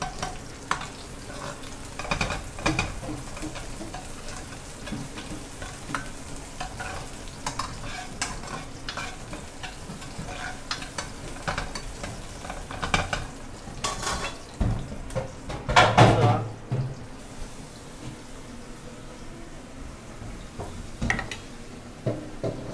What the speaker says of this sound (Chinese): 蒜米片还有姜片我们丢下去了、哦、放少许的油来爆香它